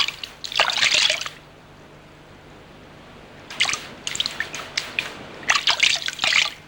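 Water trickles and drips at the ancient watering place of Madyan, bursts of splashing near and clear separated by a quiet stretch, with no talk.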